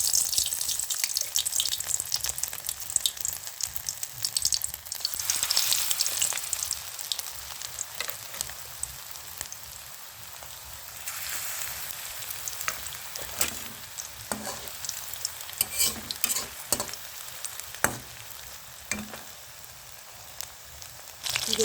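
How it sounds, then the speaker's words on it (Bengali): Marinated chicken pieces frying in hot oil for egg chilli chicken, a continuous crackling sizzle with bursts of spitting and small clinks of a utensil, close and alone without talk. "এবার চিকেনগুলোকে আমি ভেজে নেব।"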